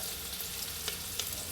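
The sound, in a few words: onion and coriander frying in oil in pressure cooker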